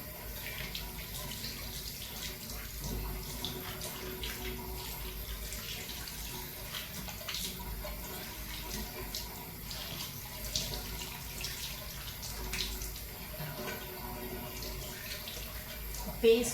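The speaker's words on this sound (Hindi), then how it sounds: "फेस को वॉश करने में कोई जल्दीबाजी मत करिएगा." Tap water runs steadily into a sink during a morning face wash, a soft continuous splashing hiss with small drips, fairly faint and unbroken throughout, with no speech over it.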